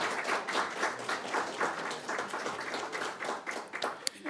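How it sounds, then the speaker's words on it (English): Polite applause at a school district board of trustees meeting, a modest round of clapping from a room of attendees lasting a few seconds, fairly quiet and even. "you can clap if you'd like."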